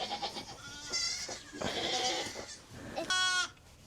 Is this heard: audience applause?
no